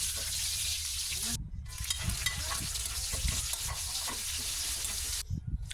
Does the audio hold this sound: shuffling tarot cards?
no